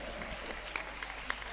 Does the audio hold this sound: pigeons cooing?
no